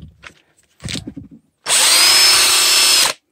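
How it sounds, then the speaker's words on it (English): A cordless drill running on a graphene battery gives one loud, steady high-pitched whir lasting about a second and a half, close by, after a few brief handling clicks and knocks. "They're well over 100 cycles, because I use it in my drill gun"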